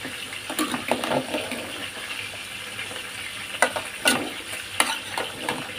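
Sautéed bottle gourd with banak fish stirred in a pan, wet scraping and sloshing strokes over a soft sizzle, in irregular bursts close by, with no talk.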